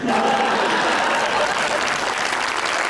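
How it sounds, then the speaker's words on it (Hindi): Audience applause in a studio comedy show, mostly women clapping, dense and steady throughout at close range with crowd noise blended in. "और सब तालियां भी जो बजा रही हैं वो सारी मेजरली खवातीन ही हैं"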